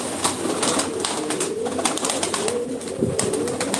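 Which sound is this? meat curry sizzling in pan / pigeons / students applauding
pigeons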